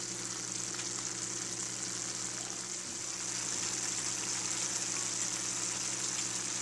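Ground meat for spaghetti sauce sizzles and fries steadily in a pan with liquid pooled in the bottom, a constant close hiss with faint stirring.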